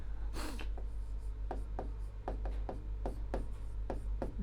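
Someone writes on a board while solving a chemistry problem, making a series of short, crisp scratching strokes in uneven bursts over a low, steady hum, with no talk.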